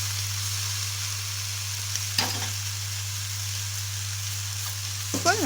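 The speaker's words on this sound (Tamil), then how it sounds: "அது வத்திட்டு நல்லா சுருண்டு வர அளவுக்கு இது வதக்க போகிறோம் நம்ம" Chicken pieces sauté in thick masala in a pan for Chettinad chicken kulambu. A steady frying hiss plays over a low hum, with a couple of brief stirring scrapes, and no one talks.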